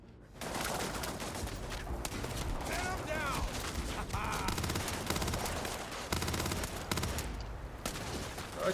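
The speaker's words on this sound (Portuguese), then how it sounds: "Só atirei do nada." Starfield gunfire comes as sustained rapid bursts of close automatic shots, loud and nearly continuous across most of the stretch, with a few short pauses and clattering mechanical sounds in between.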